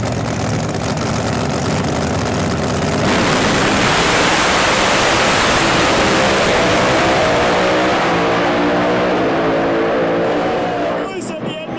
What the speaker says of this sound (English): What a drag race.